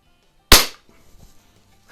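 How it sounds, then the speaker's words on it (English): A Xisico XSP120D air pistol fires a .22 pellet at a target, one sharp, loud, close crack that fades fast, followed by faint handling noise and a soft knock near the end. "These 22 pellets shooting out of this gun."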